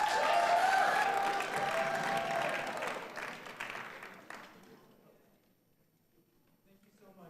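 A crowd applauds at a Battle of the Bands concert. The clapping is full and loud at first, then thins and fades away into near silence.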